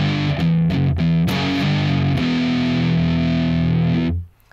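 A distorted electric guitar plays a riff, ringing chords alternating with tight palm-muted chugs, loud and up close, ending with the strings cut off abruptly.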